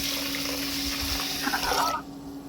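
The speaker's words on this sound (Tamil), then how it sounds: "இந்த மாதிரி தண்ணி ஊற்றி நல்லா ஊற வச்சுக்கோங்க." Tap water runs steadily over raw white rice in a bowl, set to soak for a sweet lamp dough, a continuous close splashing pour that cuts off abruptly near the end, leaving quiet room tone.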